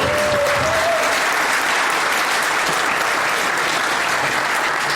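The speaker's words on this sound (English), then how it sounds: "Big round of applause for Richard Starkey, the man." Loud, dense audience applause at a Conan the Barbarian panel at San Diego Comic-Con, a packed hall clapping continuously at full strength from start to finish.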